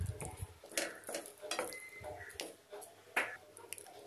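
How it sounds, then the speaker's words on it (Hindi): Drumstick curry being stirred in a pan: scattered scrapes and clinks of a spoon against metal, light and intermittent, with no talking. "एक बार मिक्स कर देते हैं।"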